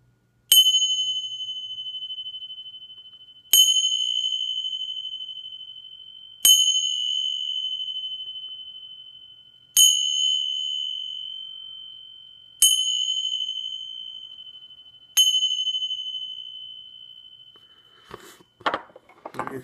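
A Tibetan bell struck six times at slow, even intervals, each clear metallic ring sustaining and fading before the next, followed by a brief clatter.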